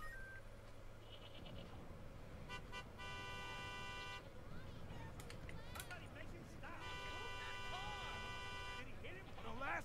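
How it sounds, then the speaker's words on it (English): Car horns toot and honk repeatedly in Halo 3 ODST, with long sustained blasts over busy game noise while people talk throughout. "Then please, stop honking your horn."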